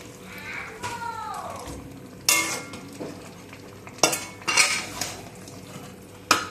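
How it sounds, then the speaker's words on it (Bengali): Marinated chicken is stirred in a cooking pan under a light sizzle, with irregular scrapes and several sharp metallic clanks of the spoon against the pan. "ভালো করে মিশিয়ে নিচ্ছি"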